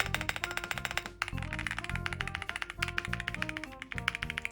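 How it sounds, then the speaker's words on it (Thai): Rapid typing on a NuPhy Kick 75 retro-style mechanical keyboard gives dense, loud clacking keystrokes in a fast irregular rhythm, close up and with no speech. "แล้วเวลาเรารัวพิมพ์นะ่ะมันก็จะเสียงดังมากนะครับ"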